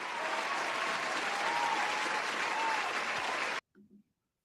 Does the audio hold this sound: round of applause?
yes